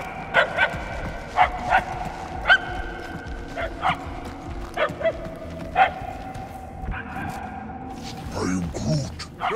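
Dog barking in the video game Guardians of the Galaxy, a string of short barks and yips with some whimpering, spaced irregularly and moderately loud, followed by a voice near the end.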